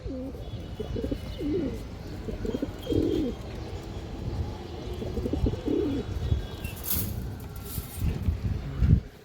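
Several pigeons coo in low, repeated rounded phrases close by, with a few faint chirps and brief rustling; a pure-bred male and female pair kept by a pigeon seller, with the coos spaced irregularly across the stretch.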